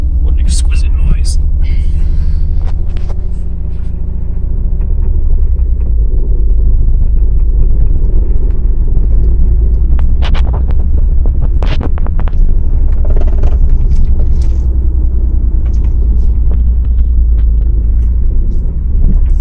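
A Mitsubishi 3000GT's engine rumbles deep and loud from inside the car as it is driven, a steady low throbbing drone with road noise and occasional clunks and rattles.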